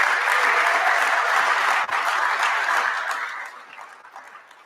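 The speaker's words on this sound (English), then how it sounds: "So please give them the round of applause they so richly deserve." An audience at a startup cohort demo day applauds loudly and steadily, a dense wash of clapping from a large crowd that fades toward the end.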